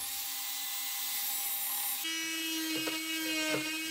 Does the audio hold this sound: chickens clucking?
no